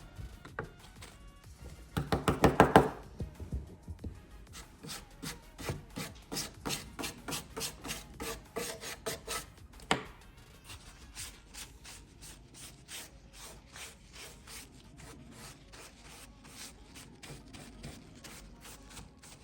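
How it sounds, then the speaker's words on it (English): A wet cloth rubs paint over furniture for a faux oak finish, with steady soft scrubbing strokes repeating close by and quietly, plus one louder burst of rubbing early on. "just as I'm doing it with a wet cloth, just rub it down so it's, you know, subtle"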